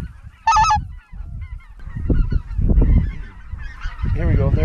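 Geese flying in over a goose hunt give loud, repeated honks, one sharp nearby call and then a ragged flock chorus, over rumbling wind and low background noise.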